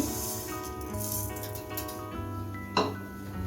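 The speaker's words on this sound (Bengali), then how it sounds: "শিরা বানানোর জন্য এখন আমি চিনিটা দিয়ে দিচ্ছি" Sugar pours into a pan to make syrup for goja, a fried sweet. A close, continuous granular rattle lasts a few seconds, with a brief louder clink near the end and no speech.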